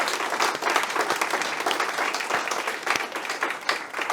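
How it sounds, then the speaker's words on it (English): An audience at a conference event on climate and migration applauds steadily, a dense, even patter of many clapping hands holding at moderate loudness throughout. "A big applause to them"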